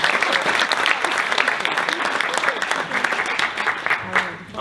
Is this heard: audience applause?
yes